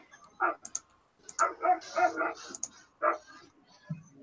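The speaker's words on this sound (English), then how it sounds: "Whose dog was that?" One of several roommate's dogs barking indoors, a handful of sharp, moderately distant barks in uneven bursts with short pauses, alone in an otherwise quiet room.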